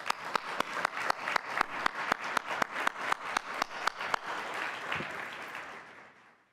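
An audience at the Capitol Riverfront BID annual meeting claps for the board of directors in a strong, regular, almost unison rhythm. The clapping then loosens and fades away to quiet.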